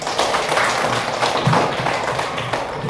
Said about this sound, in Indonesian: Terima kasih Rasya, kita kasih tepuk tangan dulu.